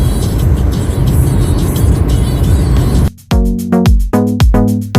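Citroën C4 driving along the southern coast road of Gran Canaria from the airport toward Puerto Rico: a steady, loud in-cabin road and engine rumble for three seconds, then abruptly replaced by louder, tonal, stacked bursts.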